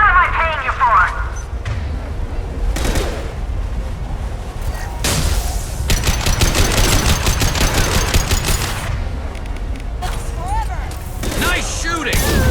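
Rifle gunfire in the video game Mass Effect 2: loud bursts of rapid automatic shots and heavier booming blasts, clustered in stretches across the clip and mixed with battle effects and spoken voices.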